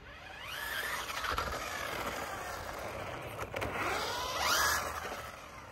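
A UDIRC 1607 Pro brushless 1/16 scale RC drift car runs on its high speed setting, a faint high electric whine that rises and falls as it sweeps past, with light tire scrapes and no talk.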